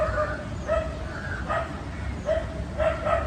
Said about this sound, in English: Sorry, there's a dog barking and I cannot stop that